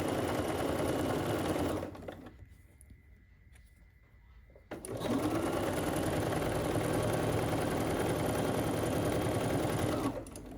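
A sewing machine runs steadily and loudly for about two seconds, stops for a quiet gap of nearly three seconds, then starts again and keeps running at a constant rate to the end.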